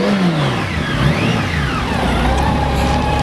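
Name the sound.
2003 Honda Goldwing GL1800 Champion trike engine running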